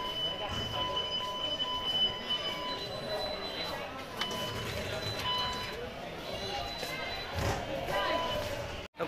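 A Delhi Metro train runs with a steady loud rumble, a high tonal whine from the motors and brakes, and scattered clanks, close by in a station or carriage.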